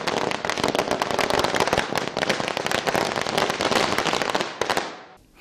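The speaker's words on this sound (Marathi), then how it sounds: "दरम्यान फटाक्यांची आतषबाजीही करण्यात आली" Rapid strings of firecrackers and fireworks bursting at a street celebration in Ramlal Chowk, a loud, dense crackling barrage of sharp pops that runs nearly continuously before cutting off abruptly at the end.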